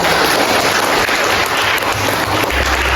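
Classmates clap after a group presentation in a classroom, a dense, loud burst of applause that holds steady for the whole few seconds with no talking over it.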